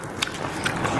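Crunchy bites into boiled sea snails served with a spicy seafood dipping sauce and fresh vegetables, a few close, sharp crunching bursts over about a second.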